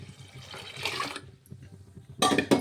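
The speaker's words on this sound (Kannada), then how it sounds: "ಕುಕ್ಕರು ನೀರು ಹಾಕ್ತೀನಿ" Water splashes and runs briefly into a pressure cooker, then pauses before a louder rush of pouring liquid near the end.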